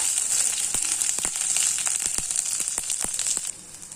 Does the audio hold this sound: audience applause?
no